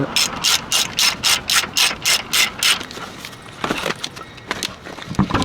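A ratchet clicks in about nine rapid, evenly spaced bursts while tightening bolts during a brake rotor and pad replacement on a 2013 Ford F-250, then gives way to scattered metallic clatter and handling noises nearby.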